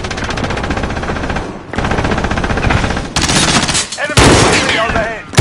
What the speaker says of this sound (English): Enemy shooting overhead.